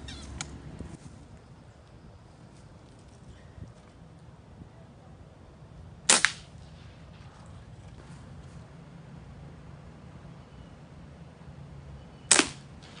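A PCP air rifle fires at an iguana outdoors: two sharp, brief cracks about six seconds apart, the first near the middle and the second near the end, over a steady low background hum.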